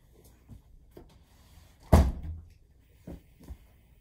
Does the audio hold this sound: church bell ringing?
no